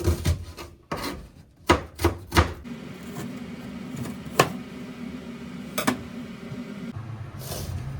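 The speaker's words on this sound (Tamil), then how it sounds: "வெங்காயம் நறுக்கிட்டேன்." Knife chopping red onion on a board: a quick run of sharp, close chops at first, then softer slicing and scraping with occasional isolated cuts.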